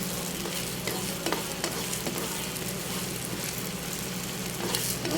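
Eggs with tomatoes stir-frying in a pan, with a continuous loud sizzle and intermittent scraping and stirring clatter, close and without talk.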